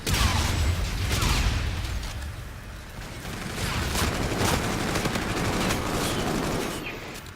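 Rapid automatic gunfire bursts from a Call of Duty Scorch Hardpoint match, loud, dense and nearly continuous with overlapping shots and a few booms, no voices.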